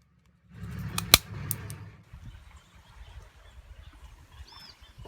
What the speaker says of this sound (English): this is the sound of a machete striking and cracking a coconut sitting on rocks at a quarter speed